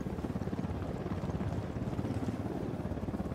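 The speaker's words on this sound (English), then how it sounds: "Chopper, hit the dirt." An enemy helicopter in the video game Ghost Recon Wildlands, a low, heavy rotor thump beating in a fast steady rhythm, loud and close throughout.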